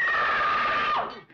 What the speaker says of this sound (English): Is that the loudest you can scream?